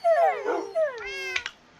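Pet dogs and cats in the Minecraft video game, on an old abandoned server: a few close, clear whiny cries and meow-like calls, sliding in pitch, then two short sharp yips at the end, with no talking.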